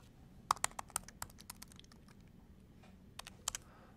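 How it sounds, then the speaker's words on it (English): Keys on a computer keyboard are tapped in a quick burst, then a pause, then a few more clicks while an IPv6 address is typed, close and clear over a quiet room with no talking. "So let me also open another tab and type in the IPv6 address."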